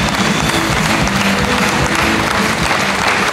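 A studio audience applauds loudly and continuously, dense clapping holding steady throughout the clip.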